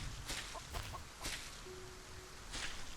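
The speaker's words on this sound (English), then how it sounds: "I heard a buck buck. Hello, chicken." A chicken clucks in the video game Solar Punk, giving a few short, quiet clucks spread across the moment over a faint ambient game background, with no talking.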